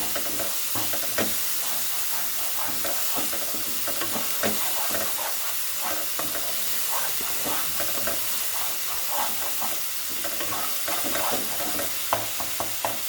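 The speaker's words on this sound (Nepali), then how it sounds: "यसलाई मजाले फ्राई गर्ने।" Marinated chicken pieces for pickle frying in hot oil give a loud, dense, continuous sizzle and hiss, with scraping stirs throughout and no talk.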